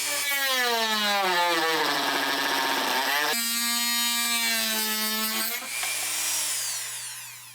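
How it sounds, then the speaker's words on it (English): A Dremel rotary tool cuts through a cover while finishing brake lines on an H22 turbo Civic, its loud high-pitched whine holding steady then dipping and rising in pitch as the bit loads and frees, close and continuous with no talk. "So I'm just going to bust out the Dremel, we'll get some cutting done."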